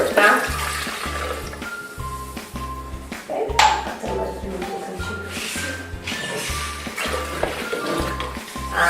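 Water poured into a blender for a vegan detox juice, a short splash about a third of the way through, partly buried under steady rhythmic background music.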